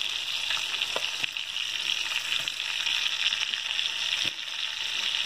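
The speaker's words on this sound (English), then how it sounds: "I'm going to throw me some mushrooms and some green onions in there and let them cook in with that catfish." Catfish frying in a pan with mushrooms and green onions, a steady close sizzle and crackle with a few sharper pops and faint stirring clicks throughout.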